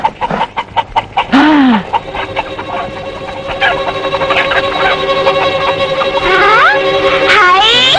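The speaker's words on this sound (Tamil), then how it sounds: "என்ன சத்தம்? அதுதான் கோழி." Chickens clucking and a rooster crowing in a film scene, loud and close: rapid clucks at the start, then drawn-out calls and further crowing notes over a steady background.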